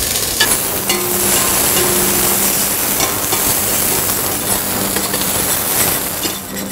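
Onions sizzling loudly in a very hot pan, a steady close crackle with occasional stirring clinks and scrapes, nearly burnt, with no talking.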